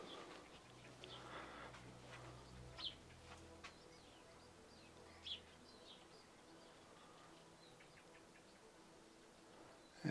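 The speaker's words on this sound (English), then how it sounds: "All you can hear right now is the birds chirping, the occasional rooster." Faint birds chirp in quiet open countryside at dawn, sparse soft calls scattered over a low steady background hush, with a possible distant rooster.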